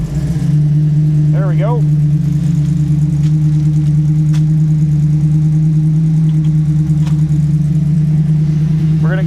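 A 1937 Buick street rod with a new BluePrint Engines 350 crate engine running at a steady, loud, close idle with a deep even drone, and someone speaks briefly over it.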